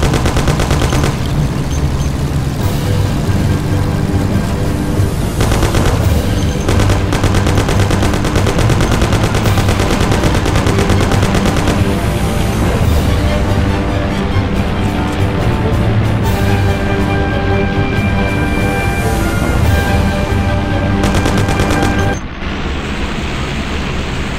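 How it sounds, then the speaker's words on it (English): A loud, sustained shootout in the Mafia video game, with continuous bursts of machine-gun fire and rapid gunshots over a car engine for over twenty seconds before the firing abruptly drops away. "Shoot! Bastards! Kill him, Sam!"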